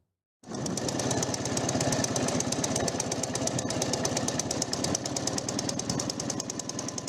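A motorcycle engine runs loud and close the whole time, with a steady rapid pulsing, rough, knocking throb that never lets up and no talk over it.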